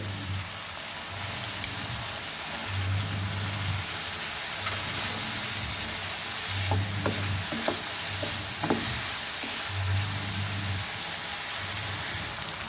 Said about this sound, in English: fry this till it gets nicely soft, and we'll add our king powder too